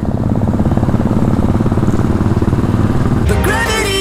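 A fully modified, camouflage-painted Continental GT motorcycle idles close by with a loud, steady, lumpy throb, and a brief higher whine joins near the end.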